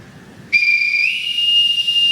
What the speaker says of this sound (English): Everyone answers to a whistle.